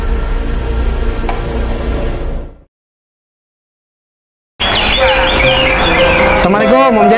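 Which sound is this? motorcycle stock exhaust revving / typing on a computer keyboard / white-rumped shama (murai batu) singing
white-rumped shama (murai batu) singing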